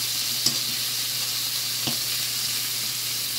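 Chopped onion and capsicum frying in a pan for veg manchurian, giving a steady, even sizzle with a low hum beneath and two brief clicks of a spoon against the pan; no one speaks.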